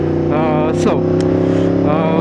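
A Yamaha motorcycle fitted with an Akrapovič exhaust runs loud and close while being ridden, its engine note steady with brief rising revs, and a voice speaks over it.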